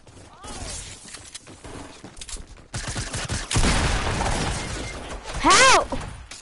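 Rapid gunfire from a PS4 video game, bursts of shots and crashing impacts growing louder toward the end, with brief voices mixed in.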